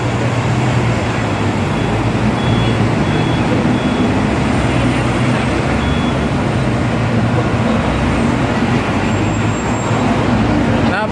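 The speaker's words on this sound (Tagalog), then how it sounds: "Ayan yung mga buses, mga city bus." Continuous city bus and traffic rumble at the Central bus terminal in Hong Kong, with engines idling and moving, faint beeps, and a voice talking over the steady roadway noise.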